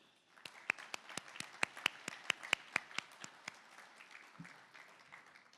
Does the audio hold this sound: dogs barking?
no